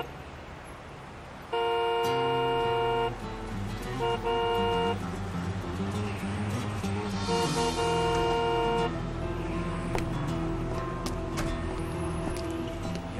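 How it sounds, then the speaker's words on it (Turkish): A car horn blares in several long, loud honks separated by short gaps, over steady traffic and engine noise. "Sen niye sert sert kornaya basıyorsun?"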